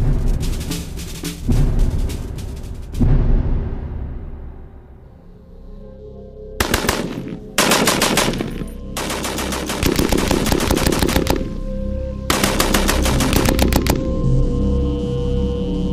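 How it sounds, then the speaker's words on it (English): Bursts of Browning machine gun fire strafing a section of aluminium Messerschmitt 109 wing skin from a Spitfire armament test, loud rapid rattling volleys with short pauses between them, no talking. "A Spitfire's Browning machine gun just does not have the firepower to do any serious damage"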